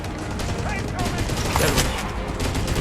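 Rapid bursts of automatic gunfire fill a firefight in the video game Delta Force, a dense, loud crackle running throughout with explosions mixed in.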